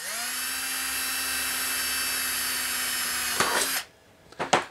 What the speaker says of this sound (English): And I'm using a number 30 drill bit.